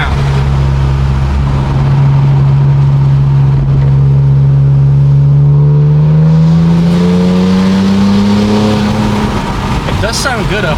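An Infiniti Q60 engine with aftermarket downpipes and exhaust revs steadily upward, heard with windows down, its note rising in pitch and turning raspy at the top, loud and close throughout.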